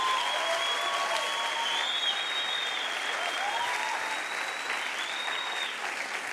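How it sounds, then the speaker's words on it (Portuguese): Sustained applause and crowd cheering at a church worship conference, honoring the worship band, with a few high whistles riding over the steady clapping. "Uma salva de palmas para a galera do louvor"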